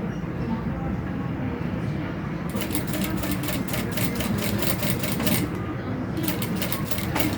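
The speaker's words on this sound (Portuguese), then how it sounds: "vou passar minha costurinha no pontinho 4 da minha máquina" A sewing machine stitches a seam on a crossbody bag at stitch setting 4. A low steady background is followed by a fast, even mechanical chatter of needle strokes that starts partway through, pauses briefly, then resumes.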